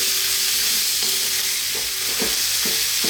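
Frankfurter sausages sizzling steadily in a pan, a constant loud hiss of frying with a soft scrape of stirring every half second or so.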